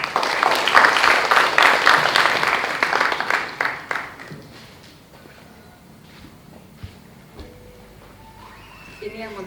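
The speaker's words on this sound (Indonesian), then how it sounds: "tepuk tangan" An audience claps at the opening ceremony of an annual art event in Yogyakarta, loud applause at first that thins into scattered claps and fades away, followed by some quiet room noise.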